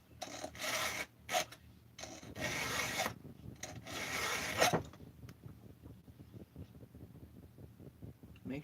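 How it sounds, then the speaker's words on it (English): A blade being sharpened with alternating swipes on both sides, heard as several loud rasping strokes in the first five seconds, followed by quieter scraping and faint handling sounds. "just take an even number of swipes on both sides."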